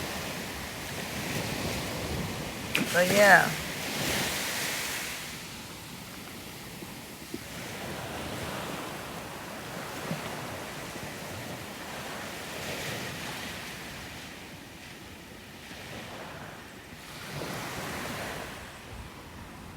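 Ocean waves surge and wash ashore along Barbados' west coast in a steady roaring wash with wind buffeting the microphone, one louder crash early on, and a brief spoken remark.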